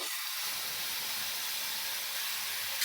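Tomato paste added to hot oil for a Bengali rohu fish curry gives a steady, even hiss that carries on without a break, with no talk over it.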